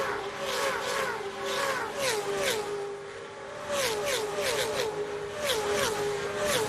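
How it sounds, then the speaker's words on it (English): IROC race car engines at the Daytona road course in 2006 scream steadily, with pitch sweeping down and back up through gear changes and braking, while further cars pass by. "See what Mark Martin in the 6 car can do going down into turn 1"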